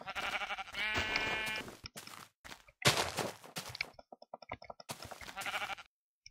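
Blocky sheep in the Minecraft Technic mod bleat in several bursts, mixed with game sound effects and clicks, loud and close, with brief silent gaps between.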